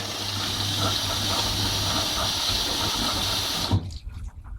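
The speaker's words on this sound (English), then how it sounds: "They both open now, both water valves." Both water inlet valves of a Beko WM5100W washing machine open in self-test mode, sending a steady loud rush of incoming water that cuts off abruptly near the end, followed by faint clicks.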